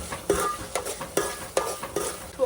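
Spices with cumin and red chilli powder are stirred into a sizzling gravy pan for a Kathiyawadi vegetable dish, the spoon scraping in regular strokes about twice a second over a soft, continuous sizzle, up close and without talk.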